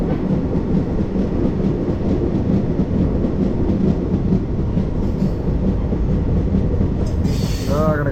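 Train 17046, the Anakapalle–Charlapalli express, rolls past near the Hyderabad–Warangal highway with a loud, constant rumble of wagons and wheels and a rhythmic clatter, a brief high squeal rising near the end; no talking.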